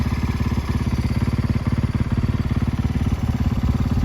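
An old snowmobile engine running on snow, a steady low rhythmic chugging throb that stays close and loud for the whole stretch with no talk.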